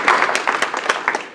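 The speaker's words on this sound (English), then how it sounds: "I'd like to have a little round of applause here for the mothers." A brief, close round of clapping from an audience applauding mothers, a quick cluster of sharp hand claps that stops after a moment.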